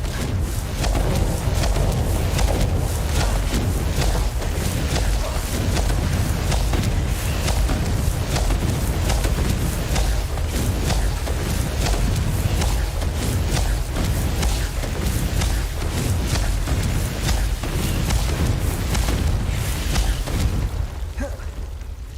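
Confringo fire curse explosions in a Harry Potter video game: a dense, continuous barrage of loud booms and bursts that rumbles on for over twenty seconds, easing slightly at the very end.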